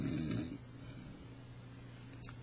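A voice imitates a tank gunner snoring while asleep on his gun: a short, heavy, rumbling snore at the start, followed by quieter, low breathy sound.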